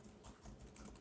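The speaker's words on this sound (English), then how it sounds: "we go to terminal and type pip" Keys tapped on a computer keyboard at a terminal, a brief steady run of soft clicks lasting about a second, close and fairly quiet with no voices.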